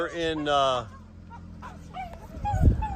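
A litter of little puppies, two males and several females, whimper and let out high yips, close and overlapping, with quieter rustling between the cries.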